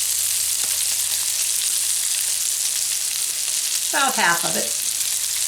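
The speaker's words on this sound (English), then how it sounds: "I'm going to melt a little more butter in there. Okay, now I'm going to sprinkle a little bit of my sausage and onion mixture in there." Sausage and onion mixture frying in melted butter for pierogi filling, a steady close sizzle throughout with a short spoken phrase near the end.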